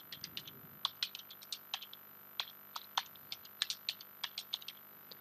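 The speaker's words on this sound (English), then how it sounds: "type the command after that press enter" Someone typing a command on a computer keyboard, a quick irregular run of crisp key clicks, close and fairly quiet, with a few brief pauses between bursts.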